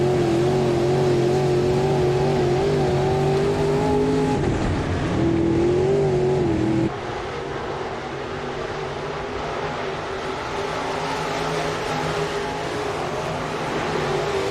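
Race cars lapping the dirt oval at Boone Speedway in Boone, Iowa during a heat race, engines droning loud and steady with pitch rising and falling as the cars push through the turns.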